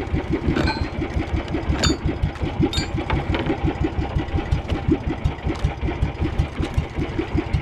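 Engine running roughly and about to stall, a close, steady, uneven chugging idle with irregular knocks and faint metallic ticks throughout, no talk.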